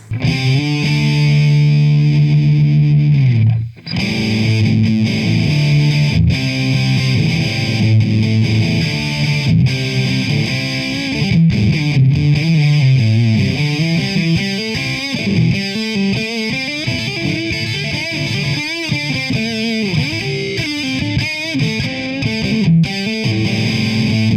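Electric guitar runs through a TC Electronic Dark Matter distortion pedal, thick sustained chords and riffs played loud and continuously, with a brief dropout near the start.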